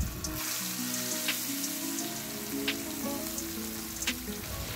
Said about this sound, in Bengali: এবার আমরা গরম তেলের উপর ছেড়ে দেবো ইলিশ মাছটাকে।